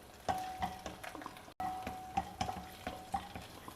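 Green chillies and garlic frying in a kadai for a South Indian meal, with steady sizzling broken by repeated stirring scrapes and light utensil clinks, close up with no talk.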